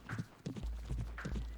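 Horse hooves clip-clop steadily in the Riding Star horse championship game, a repeated, even hoofbeat rhythm close and fairly loud, with no voices.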